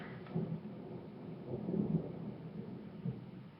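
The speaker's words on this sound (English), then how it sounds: "And there's the thunder." Deep thunder rolls through low, rumbling swells that peak around the middle and again near the end, with no other clear sounds on top.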